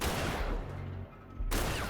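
Gunfire from a film's soundtrack, with dense, loud bursts that open the sound, drop away for about a second, then crash back in at the end. No one speaks.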